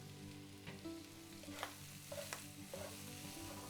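Oyster mushrooms and garlic frying together in a pan, a steady soft sizzle with a few scrapes and clinks of stirring scattered through, moderately quiet and with no talking.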